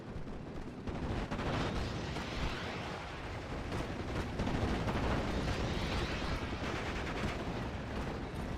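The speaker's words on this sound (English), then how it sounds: "That's a good rocket strike." Continuous rocket strike explosions in the WWII strategy game Steel Division: Normandy 44, a dense, loud barrage of blasts and gunfire rumbling steadily for several seconds with no talk.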